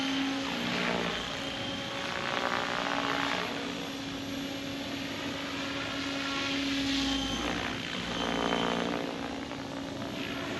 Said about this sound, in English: this is a pretty low head speed right now for this helicopter.